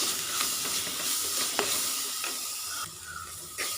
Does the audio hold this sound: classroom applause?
no